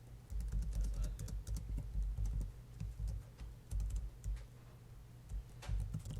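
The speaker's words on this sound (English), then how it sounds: "Why am I typing this out for you?" Steady typing on a computer keyboard during a computer science class coding session, a quick irregular patter of key clicks close to the microphone, with no talking.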